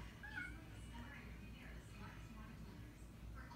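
Several cats meow and yowl in a caterwauling exchange, squealing cries rising over a steady low room hum, with a person talking softly between them.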